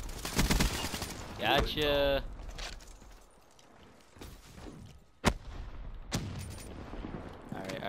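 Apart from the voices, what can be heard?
gunfire in video game Call of Duty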